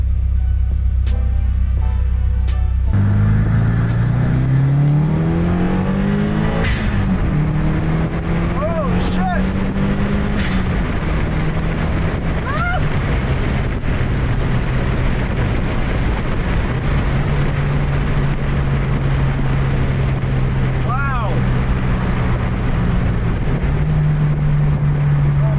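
A tuned 2015+ Subaru WRX with a meth kit, making about 444 wheel horsepower, pulls hard under full throttle. Loud, close engine tones climb steadily through gear changes over constant road and wind roar.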